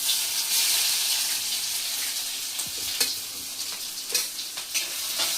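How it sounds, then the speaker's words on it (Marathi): Ground spice paste goes into hot oil tempered with cumin and mustard seeds, giving a close, steady frying sizzle broken by stirring scrapes and light clicks, with no voices. "आता जिरा आणि मोहरीला छान अशी फोडणी आल्यावर आपण त्याच्यात केलेलं वाटण टाकणार."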